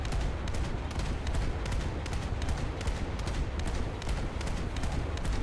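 A 40mm naval gun on a frigate in a naval combat game pounds out steady rapid shots, a continuous rhythmic thumping over a constant low rumble, fairly faint and without voices.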